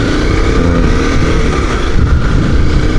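Honda CBR250R motorcycle engine and exhaust droning loud and steady up close, a continuous rumble without pause over a few seconds.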